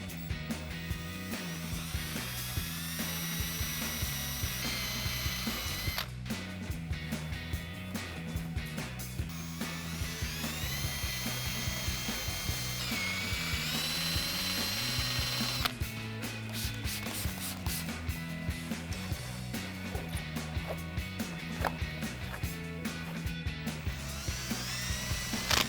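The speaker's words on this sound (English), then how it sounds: "we're gonna use a rubber wheel just to get most of this off" A rubber eraser wheel on a power drill strips old adhesive from a 2014-2019 Corvette C7 body panel, a steady whirring grind that runs nearly unbroken and close up, with brief dips in pitch as pressure changes.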